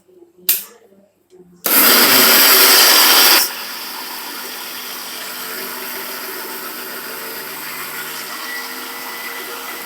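A mixer grinder blending peanut chutney with water starts with a loud, harsh roar for about two seconds, then settles into a steadier, lower whir that runs on. A brief voice and clatter come just before it starts.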